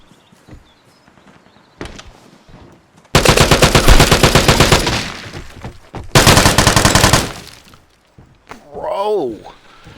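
Gunfire in the video game Vigor: two loud, rapid automatic bursts cut in sharply, each lasting about a second, with scattered thuds and movement between them and a voice speaking briefly near the end.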